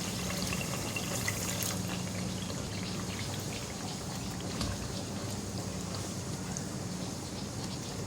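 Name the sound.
water poured into frying masala for beef paya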